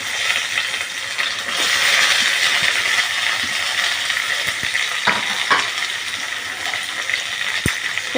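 Cumin, fenugreek, chopped onion and curry leaves sautéing in hot oil for homemade sambar: a steady broad sizzle with a few clicks of a spoon against the pan, close and fairly loud, no voices.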